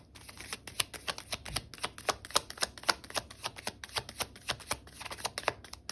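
Tarot cards shuffled and drawn from a deck, a quick steady run of crisp riffling clicks and snaps, close and fairly quiet, with no talking.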